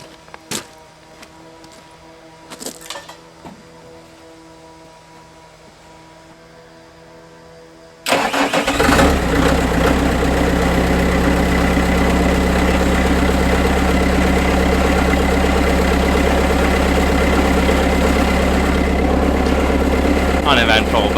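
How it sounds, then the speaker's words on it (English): A heavy equipment machine with retreaded tires cold starts after a brief crank, then its diesel engine settles into a loud, steady idle that continues to the end, with faint sounds from the cab before the start. "Nice machine. It'll start right up."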